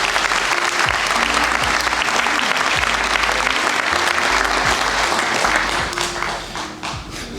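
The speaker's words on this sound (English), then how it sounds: "can I have a round of applause for all our dignitaries?" Loud, dense applause from the audience at a police awards night ceremony, sustained for several seconds before tapering off toward the end, with faint voices beneath.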